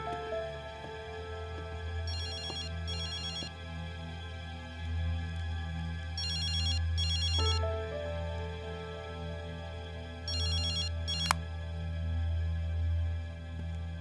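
A phone rings in a dubbed Turkish drama scene: three separated pairs of quick electronic ring bursts spaced several seconds apart, sounding over a low, steady background drone.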